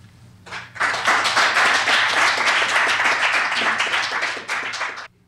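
Audience applause at a 1997 poetry recital in a San Francisco public library, a dense burst of many hands clapping that starts abruptly, holds steady and loud for about four seconds, then cuts off.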